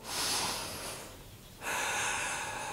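Steady, close breaths during a full-body yoga stretching session, heard alone with no talk: a loud airy exhale lasting about a second, a quieter pause, then another strong breath that continues to the end.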